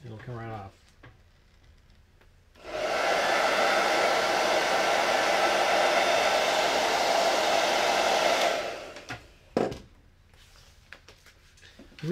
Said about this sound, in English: So I'm going to just do a little bit of a hair drying,